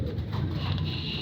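Soft, low pigeon coos murmur faintly in a quiet space, a gentle continuous burbling with no voices.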